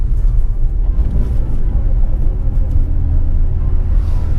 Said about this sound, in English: If I clutch in, it just locks the rears up just like that